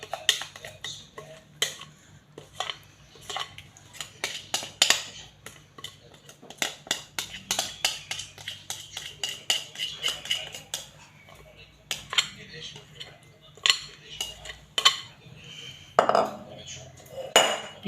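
A utensil scrapes and taps repeatedly against a mold while cake batter of semolina and milk, made without eggs or butter, is spread into it, giving a close, irregular run of clinks and knocks with brief faint talk.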